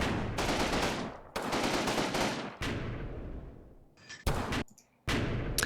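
Machine gun fire in the WWII strategy game Combat Mission, on a flooded farm near Utah Beach. Several loud, sustained bursts of rapid automatic gunfire ring out one after another, broken by short gaps, with a few sharp single cracks near the end.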